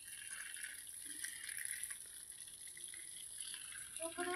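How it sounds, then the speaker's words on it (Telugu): Water runs steadily from a hose or tap while garden plants are watered at sunset, a soft continuous splashing with faint background sound throughout. "ఇప్పుడు ఈ మొక్కలు కూడా నీళ్ళు పడుతున్నాం"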